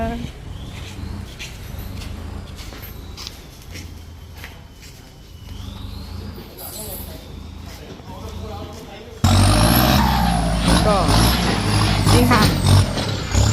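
A tractor engine rumbles while clearing and preparing land, with a low steady drone that grows noticeably louder and closer partway through. Someone talks over the engine at times.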